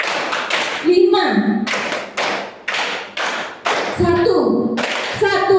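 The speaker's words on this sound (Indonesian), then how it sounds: "Tepuk tangan Bapak Ibu guru hebat semuanya." Teachers at a school training session clap in short counted bursts, sharp and loud, with pauses between groups while a voice speaks between claps.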